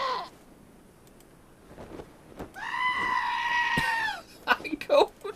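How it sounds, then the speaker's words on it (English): A goat in the video game Wasteland 2 gives a single drawn-out bleat in the middle, with a player talking before and after it. "I'm gonna talk to this goat."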